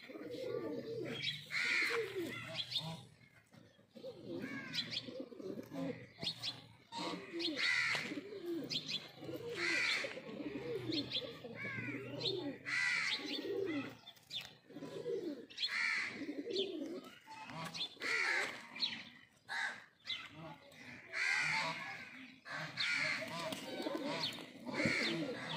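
Lightweight low-flyer pigeons coo steadily in soft, repeated throaty phrases, close by, with faint chirps and a low background hum.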